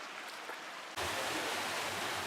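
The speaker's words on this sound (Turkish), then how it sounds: "Darboğaz Şelale sahasına geldiğimizde Yüksek kayalıklar arasından geçen şelalenin dışında başka geçit alanı bulunmuyor." A waterfall pours through a narrow gorge between high cliffs in Yaka Canyon, its dense, steady roar suddenly swelling loud and close, with quieter rushing water before it.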